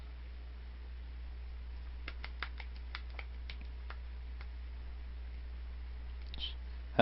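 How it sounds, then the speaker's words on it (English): A run of sharp, isolated claps from a single person in the video game A Christmas RPG, irregularly spaced over a quiet hum, ending with a louder hit. "One guy clapping."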